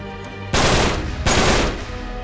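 Two loud bursts of automatic gunfire in the video game Uncharted 3: Drake's Deception, each a dense rattling volley lasting well under a second, close and forceful, with no talking.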